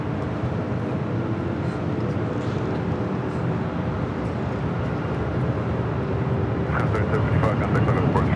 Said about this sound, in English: Next takeoff, Southwest